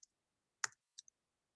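Typing on a computer keyboard while entering a place name into a property listing form: a few isolated, crisp key clicks spaced apart, close and quiet against near silence.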